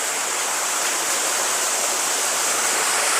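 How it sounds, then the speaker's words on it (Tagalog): Water of the underground river in Cavinti cave flows in a steady, even hiss and rush, close and continuous with no pauses and no voices. "Napakalinaw at malamig na tubig dito sa loob ng kuweba"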